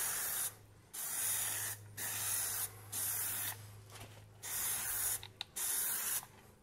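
Plasti Dip aerosol coating sprayed onto a chrome car emblem in several steady hissing bursts of about a second each, separated by brief pauses, close and fairly loud with no talk.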